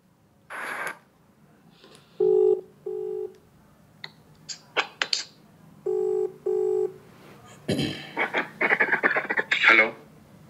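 A recorded telephone call plays back: dial and ring tones sound in short repeated pulses, followed by bursts of voices talking over the line near the end.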